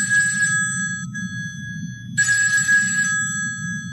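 A telephone ringing effect played from a HW-896/JQ6500 MP3 player module: two bursts of rapid electric bell trill separated by a short gap, over a constant low hum.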